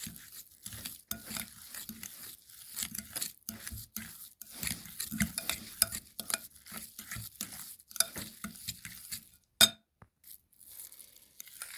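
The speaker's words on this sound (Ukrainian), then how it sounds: "А в сир вкидаю цукор ванільний, папічку і добре розмішую" A spoon stirs cheese mixed with vanilla sugar and ordinary sugar for a pumpkin-cheese pie filling, giving soft irregular scraping and tapping strokes against a bowl, fairly quiet and close, with no voices.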